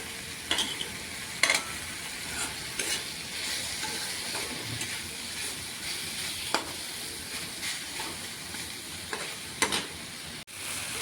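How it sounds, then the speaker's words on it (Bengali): Chutney being stirred in a pan with salt and turmeric, a spoon scraping in irregular strokes over a steady low sizzle, with a few sharper clinks standing out, close and fairly quiet, no talking. "দিয়ে একটু ঘেঁটে দিন ভালো করে"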